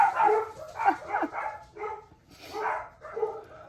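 Several dogs bark close by in a quick, irregular run of sharp yips and woofs that overlap each other, loud throughout with no talking.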